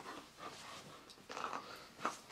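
A dog pants quietly indoors, with soft rhythmic breaths and a couple of short, sharper snorts near the middle and end.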